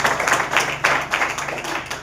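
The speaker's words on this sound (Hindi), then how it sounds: "एक बार जोरदार तालियां।" A seminar audience claps for a few seconds in broad, steady applause with sharp hand-clap transients, fairly close and loud, and a constant low hum running beneath it.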